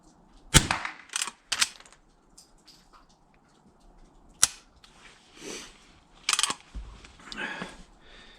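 Sharp gunshots from a Henry .22 lever-action rifle at an outdoor range, several loud isolated cracks spaced irregularly with quieter handling noises between them.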